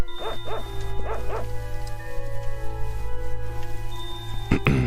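A dog yips and barks in the Secret of Evermore video game, several short bursts over a steady synth music drone, with another sharp sound near the end.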